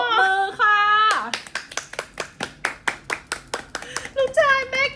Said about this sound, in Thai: ทุกคนปรบมือค่ะ